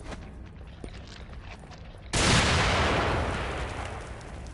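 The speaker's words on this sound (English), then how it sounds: "I'm actually just gonna throw a grenade because I have a ton." A grenade explodes in the survival horror game The Evil Within, a sudden loud blast that bursts in midway and rolls on into a long, slowly fading roar of debris and rumble, with no talk over it.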